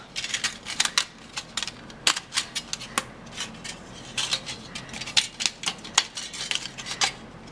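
A Big Shot die-cutting machine cuts metal flowers with a rapid run of sharp, close clicks and crunches, repeating irregularly for several seconds with no voices.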